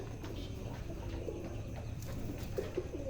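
Pigeons in a loft at night give soft, repeated cooing under a steady low background hum, the calls close and gentle with occasional faint chirps.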